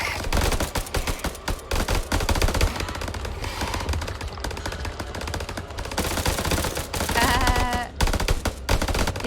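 Dense, continuous automatic gunfire in the House of Ashes horror game, loud rapid bursts layered over a low rumbling background with no pause across the stretch.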